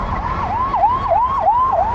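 An ambulance siren wails in a steady repeating rise-and-fall pattern, loud and continuous with no talking.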